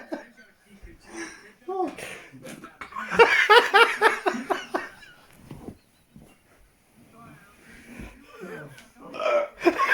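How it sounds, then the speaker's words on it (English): Repeated sharp hiccups break out at irregular intervals, mixed with laughter and talking from people on a sofa, close and fairly loud. "I'm finally done with the burps. Not burps, hiccups."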